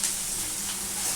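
Sliced onions frying in a pan for a prawn dish, giving a steady close hiss and sizzle with no breaks.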